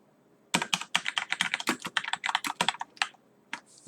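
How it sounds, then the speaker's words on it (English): Rapid keystrokes on a computer keyboard during a Microsoft Word lecture, a steady run of close, crisp clicks after a brief silence, with no talking. "Now if I were to type something"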